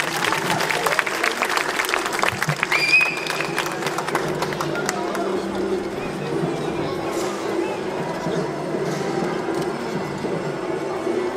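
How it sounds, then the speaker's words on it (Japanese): An audience claps at the Hachioji festival 2024 before a Taiwanese Kaohsiung performance; dense applause rises loudly at first, then thins into a steady crowd murmur with faint voices. "皆様大きな拍手とご声援をお願いします。"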